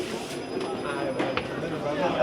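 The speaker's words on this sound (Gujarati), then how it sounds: "અમે ટ્રેન આવી ગઈ છે" An elevated REM metro train arrives at a Montréal station with a rolling rumble and faint wheel squeal, while a voice talks nearby.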